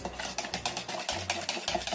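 Kue bawang cracker batter, a small packet of flour mix with about four tablespoons of water, being stirred in a container, giving steady rhythmic scraping and sloshing strokes, close and fairly loud, with no talking.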